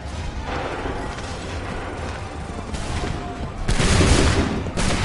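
Musket volley gunfire in the video game Assassin's Creed 3, a dense rumbling crackle of many shots with a louder, heavier burst toward the end, set against constant battlefield noise.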